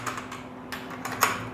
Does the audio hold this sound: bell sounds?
no